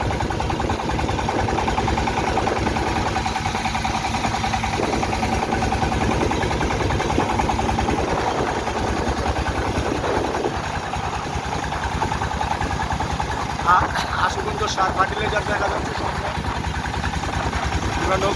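A boat engine drones steadily while crossing the Meghna river, a continuous mid-low hum with vibration throughout, and people talk over it.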